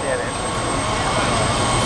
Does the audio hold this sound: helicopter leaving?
yes